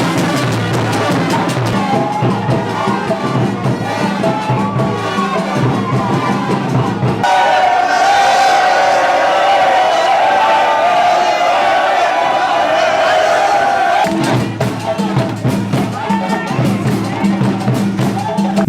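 A large crowd of supporters in Conakry cheers and shouts to welcome Guinea's national basketball team, a loud continuous roar of voices with whoops rising above it. Talk and announcements are heard over the din in places.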